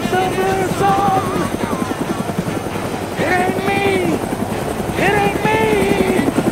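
A helicopter flies nearby with a loud, steady rotor chop throughout, while voices and tonal effects sound over it.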